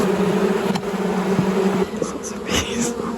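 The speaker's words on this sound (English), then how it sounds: "And you have a swarm of bees around your head." A swarm of agitated bees around a beehive in a wall on an old mountain farm in Spain, with smoke in use: a steady droning buzz close by, continuous throughout, with faint sounds of people nearby.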